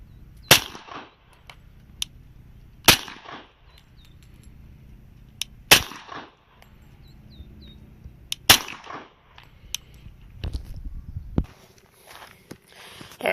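A suppressed Glock 21 pistol fires powder coated bullets outdoors, four sharp muffled shots spaced a few seconds apart with handling clicks and rustles between them, no talking.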